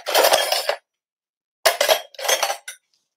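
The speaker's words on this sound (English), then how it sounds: "I'm going to grab my 1/2 teaspoon now." Metal half-teaspoon measuring spoon clinking and rattling in a kitchen, two close bursts of jangling separated by a short silence.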